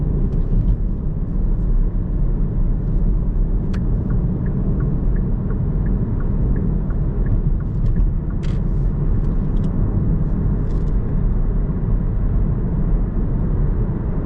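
A car cruises along a motorway with a loud, continuous low road and engine drone heard from inside the cabin, steady throughout with faint ticking clicks.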